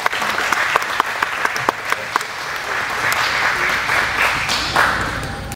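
Audience applauds at a martial arts black belt ceremony for a new first degree black belt, a steady crowd of clapping with sharp individual claps standing out early, loud and sustained for several seconds.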